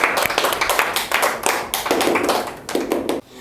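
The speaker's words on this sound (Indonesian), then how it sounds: "beri tepuk tangan untuk semua" A classroom of students clapping hands together in quick, uneven bursts, loud and close, with sharp individual claps and short pauses between rounds before it cuts off.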